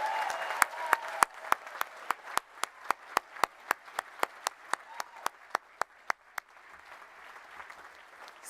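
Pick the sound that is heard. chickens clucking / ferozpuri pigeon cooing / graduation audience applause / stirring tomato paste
graduation audience applause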